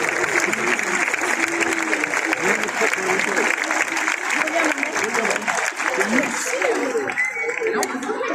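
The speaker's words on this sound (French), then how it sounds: "un peu d'applaudissements" Concert audience at a classical music evening in Lyon applauding steadily as orchestras take the stage, a dense, continuous wash of clapping with some crowd murmur and chuckles mixed in, tapering slightly near the end.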